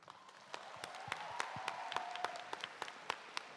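Scattered applause from a small audience at a student debate showcase, with separate claps standing out over a soft, steady room noise for a few seconds.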